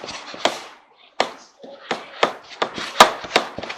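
Sticky cheese bread dough worked by hand, close up, with irregular wet slaps and squelches separated by short pauses.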